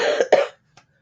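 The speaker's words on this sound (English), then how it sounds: "I got a real cough now" Two harsh, close-up coughs from a man in quick succession, followed by a faint short throat sound and then silence.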